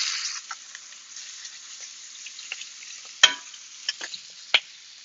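Meat sizzling steadily in a hot pan for a meal kit dish, with a soft continuous fry punctuated by a few sharp pops and tong clicks.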